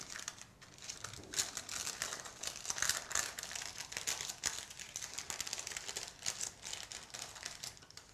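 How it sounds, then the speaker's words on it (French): Baking paper carefully peeled from cooled lemon and vanilla fiadone cakes, a close crinkling and rustling with irregular crackles throughout. "J'enlève maintenant délicatement le papier."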